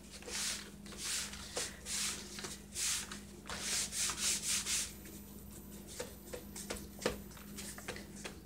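Paper being rubbed with blackberry juice to dye junk journal supplies, a soft dry scrubbing in repeated bursts, fairly close and quiet, with a few sharp taps near the end.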